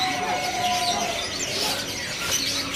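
Songbirds at a market stall selling starlings, with repeated thin chirps and tweets from several caged birds over a constant background hum and murmur.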